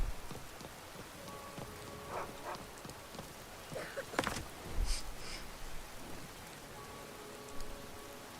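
Steady rain in Skyrim patters on a surface, with a few louder splashes and rustles breaking through the soft, continuous hiss.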